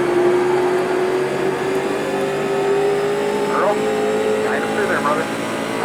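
A street stock car in the iRacing game powers out of a corner, its engine holding a loud, steady drone that climbs slowly in pitch, with a voice talking over it.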